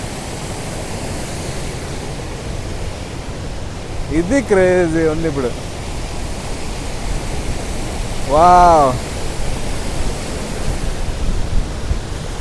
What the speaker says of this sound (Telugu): అదిగోండి వాటర్ ఫాల్ దగ్గర నుంచి.